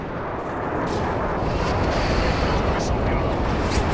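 Bombing in the video game Call of Duty MW3 during a Domination match, a dense continuous roar of blasts and rumbling explosions, loud and close, with voices talking over it.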